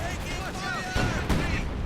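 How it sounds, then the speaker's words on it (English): An IS-2 heavy tank fires a shot in the strategy game Company of Heroes 2, a sharp booming impact with rumbling low end, alongside other battle noise and speech. "Oh, very nasty shot there by that IS-2."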